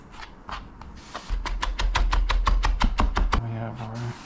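Dill for borscht trimmed with a knife on a board: a fast run of about fifteen sharp, evenly spaced chopping taps, close and crisp, with a low hum and brief talk around it.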